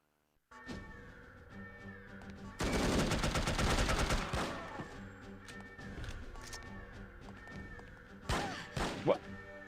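Gunfire in the No One Lives Forever video game, a dense burst of rapid automatic shots followed by scattered single cracks, mixed with game sounds and a speaking voice.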